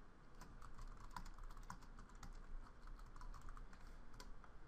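Rapid typing on a computer keyboard, a steady stream of quiet, close key clicks with no pauses or talk.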